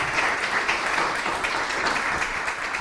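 A crowd applauds steadily, dense clapping filling the space without a break from start to finish.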